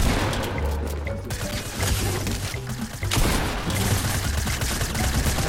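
Fortnite gunfire, a dense, loud burst of rapid shots that keeps going with only short breaks over rumbling in-game sound.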